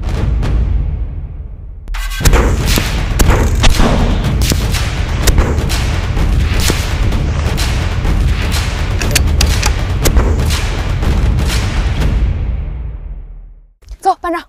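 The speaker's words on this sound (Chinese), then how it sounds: "今天将体验相对简单的100米固定靶射击" Sniper rifle fire at a 100-metre fixed target on a military range, heavy booming reports rolling continuously for about ten seconds, loud and close, with a voice talking over them and a few clicks near the end.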